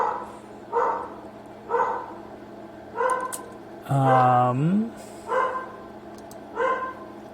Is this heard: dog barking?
yes